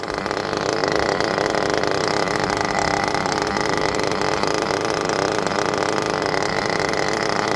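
A nitro RC engine being broken in, revving steadily and loudly with a continuous buzzing drone that holds throughout.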